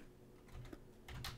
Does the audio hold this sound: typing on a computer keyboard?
yes